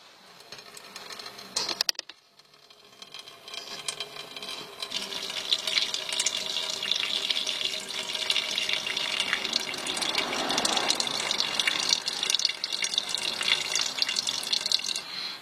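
Steady trickle of petrol pouring from a scooter's fuel tap into a pan, a continuous splashing hiss after a brief clunk near the start.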